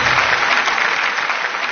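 A studio audience at a Chinese TV family game show bursts into loud, dense applause, a continuous clapping wash filling the short moment without talk.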